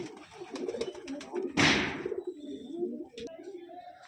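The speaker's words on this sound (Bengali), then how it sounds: "এই হচ্ছে পায়রা" Madrasi pigeons cooing softly at close range, low throaty coos repeating in a loose rhythm, with a brief burst of wing flapping and someone talking nearby.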